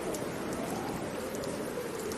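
Steady, fairly quiet rain ambience during a role-playing session, a constant patter of drops on a surface with no other sounds and no break.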